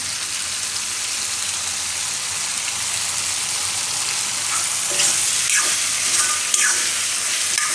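Garlic carrots stirred in a hot pan for a Gujarati sambharo: constant loud sizzling with a few scraping strokes of a spoon near the end, close up and without talk.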